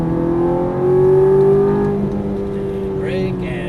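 A Ferrari F430 sports car accelerating at full throttle on a track, engine note climbing steadily in pitch as it pulls hard, loud and close from inside the car, with a voice briefly speaking near the end.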